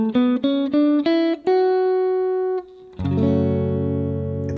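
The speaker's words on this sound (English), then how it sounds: "It's a minor scale." An ascending natural minor scale in the Aeolian mode, played as eight separate clear notes with sharp attacks, the last note ringing out, followed by a sustained chord; no talking.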